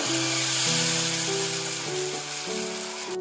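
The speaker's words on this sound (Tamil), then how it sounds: "கல் சூடானதும் மாவு ஊற்றிக்கலாங்க." Dosa batter poured onto a hot griddle stone gives a steady, continuous sizzling hiss throughout, with background music tones running underneath.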